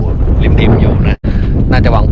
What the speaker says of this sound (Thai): โอ้โหลมแรงมากนะครับผม เสียงลมอาจจะดังนิดนึงนะ